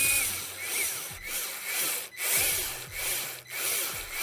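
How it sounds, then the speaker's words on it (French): A small screwdriver drives tiny screws into a PC motherboard mounted in its case, producing a steady, close, gritty whirring with brief dips at regular intervals and no talking. "Et là maintenant on n'a plus qu'à mettre les petites vis."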